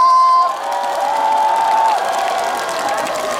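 A concert crowd at a Sacheon show claps and cheers in a steady, dense roar that carries on after a brief tone fades at the start; no voice speaks over it.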